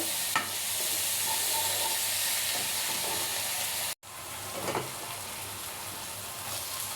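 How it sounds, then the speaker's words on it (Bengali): Ginger-garlic paste fries with turmeric, chili powder and salt in a pan, giving a continuous close sizzle with occasional stirring scrapes and a brief cut to silence midway. "এখানে হলুদের গুঁড়া, মরিচের গুঁড়া, লবণ পরিমাণ মতো দিয়ে এগুলো একটু ভালো করে ভেজে নিব"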